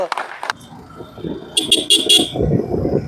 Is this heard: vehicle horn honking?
yes